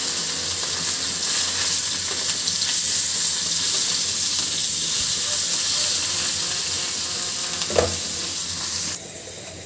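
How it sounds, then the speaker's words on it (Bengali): A fish frying in oil in a karai (wok): loud, steady sizzling and hissing close to the pan, with one brief clank late on before the sound cuts off. "ছেলের জন্য একটা মাছ ভাজি করছি, কড়াইয়ের ভিতরে মাছটা বসিয়ে দিলাম।"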